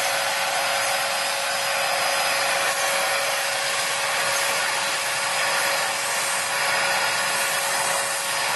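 A corded Bissell Zing 4122 vacuum runs on carpet with a steady, loud motor whine and airflow hiss, heard alone.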